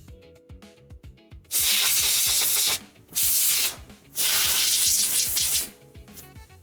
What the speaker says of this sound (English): I'm gonna grab this can air spray.